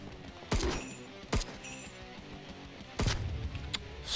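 Several sharp gunshots from a video game, fired singly with pauses between them: two quick reports early on, then a louder burst later, set over a steady game soundtrack.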